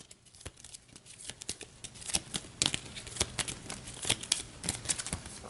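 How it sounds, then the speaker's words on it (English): A deck of game cards is shuffled at a tabletop board game session, giving a quick run of dry, rippling riffle clicks and flutters, close and fairly soft, with no talking over it. "Give these a shuffle."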